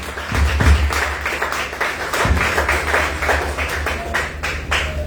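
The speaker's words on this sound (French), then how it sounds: "Applaudissez." A church congregation claps and applauds, dense overlapping hand claps that go on steadily through the whole stretch at a fairly close, loud level.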